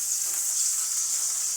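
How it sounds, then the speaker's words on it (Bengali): Potatoes fry in a mix of mustard oil and sunflower oil with a steady, close, hissing sizzle and no voices. "আলুটা দিয়ে একটু লাল লাল করে ভেজে নেব।"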